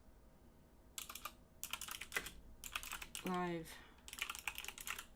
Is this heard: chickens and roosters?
no